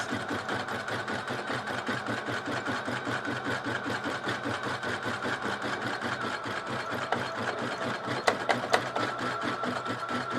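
An embroidery machine stitches a freestanding tatted Christmas ornament on wash-away stabilizer, making a steady fast mechanical whirring and needle chatter, close and continuous, with a few brief clicks near the end.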